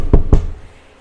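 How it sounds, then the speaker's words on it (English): Two firm knocks on a door, close and fairly loud, in quick succession with no talk. "He knocks on the door."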